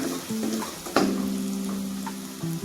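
A spicy chili chutney roasts in a pan for a village-style Marathi greens dish, with a close, even sizzle and a sharp clack of a utensil near the start. A steady tonal hum runs underneath.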